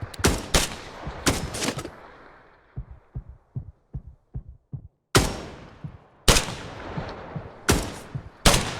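Bursts of enemy AI gunfire from a tactical first-person shooter, loud sharp cracks in quick clusters with quieter rapid shots trailing between them, heard without talk.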